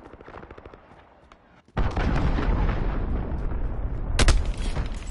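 A cruise missile launches in a video game: after a quieter stretch, a sudden loud, roaring blast kicks in and keeps rumbling, with a second sharp burst swelling on top near the end.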